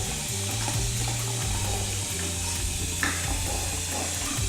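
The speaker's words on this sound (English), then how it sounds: "we're just going to mix the ingredients while we're filling it up" Hot tap water pours steadily into a bucket, a constant close rushing splash with a low hum underneath, no voices.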